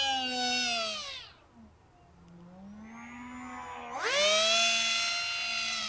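Esky Eyas Eagle RC airplane flying overhead, its electric motor giving a loud, high whining scream that bends in pitch, drops away for a few seconds, then surges back.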